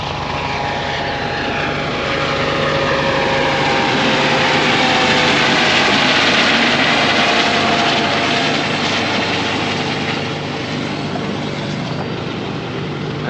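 A Coast Guard aircraft flies past, its engine drone swelling from a distance to a loud peak midway and then slowly fading away.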